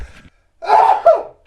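A single sharp sneeze, loud and close, bursts out after a brief breathy intake, followed by a quick catch of breath.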